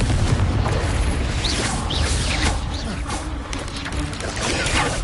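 A Confringo blasting spell explodes amid combat in Hogwarts Legacy, deep booms and bursts layered with other spell effects in a loud, busy battle.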